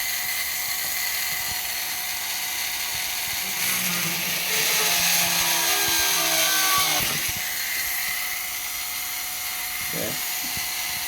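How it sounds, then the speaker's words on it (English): An electric drill whines at high speed while boring holes in a metal plate for skids, a steady buzzing tone that rises in pitch and intensity midway, then cuts off, followed by a few clicks and handling knocks. "he's getting ready to drill the holes in the plate for the skids"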